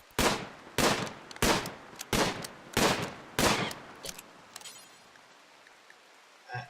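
Gunfire in RimWorld, six evenly spaced sharp shots with a short decaying tail after each, followed by fading quieter reports and near silence.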